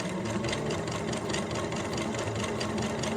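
A sewing machine runs steadily through a very thick seam, its needle chattering in a fast, even mechanical rhythm at close range, unbroken for the whole stretch.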